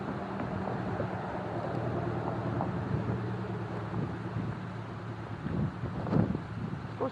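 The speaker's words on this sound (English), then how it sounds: "It's pretty windy. There's a front coming." Steady outdoor wind buffeting the microphone ahead of an approaching weather front, a continuous low rumble that swells slightly near the end, with no voices.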